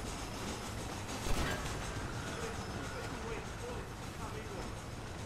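A train runs in Red Dead Redemption, a continuous rumbling roll with faint clattering over steady broadband noise, a brief thump near the start, and a person talking over it.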